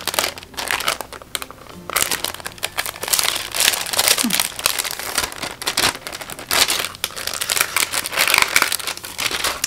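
Gift wrapping paper with gold foil leaf accents is handled and crinkled up close, giving continuous papery rustling and crackling with a brief lull near the start.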